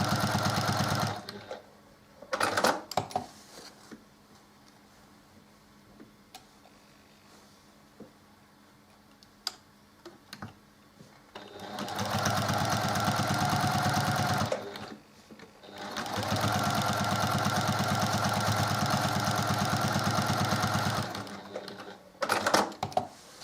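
A home sewing machine fitted with a walking foot quilts through layers of a quilt, running in two long, steady, loud bursts of fast mechanical whirring and stitching. Short starts, quiet pauses and handling clicks come between the bursts.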